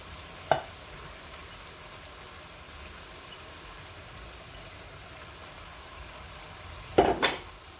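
Boiled dal roasting in a pan, a soft continuous sizzle under occasional sharp clinks and scrapes of a spoon against the pan, one near the start and a pair near the end.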